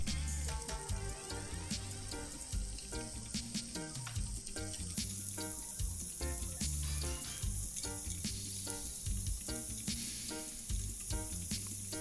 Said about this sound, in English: Getting it nice and hot, and now we're going to add our onion and carrots.